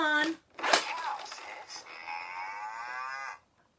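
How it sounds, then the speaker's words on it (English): A cow lets out a long, drawn-out moo that holds steady and then ends abruptly. A short sharp crack and a brief vocal sound come just before it. "A cow says moo."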